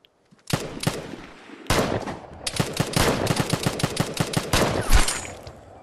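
Gunfire in the video game Vigor: loud, close bursts of rapid automatic shots after a brief quiet start, a short single volley followed by long sustained strings of fire with a heavy crack near the end.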